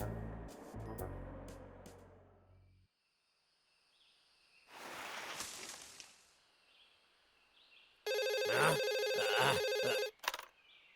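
Cartoon telephone ringing in bursts: a loud electronic trill near the end, preceded by fainter rustling and tonal sounds with short quiet gaps, no talking.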